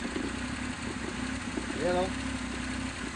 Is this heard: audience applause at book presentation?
no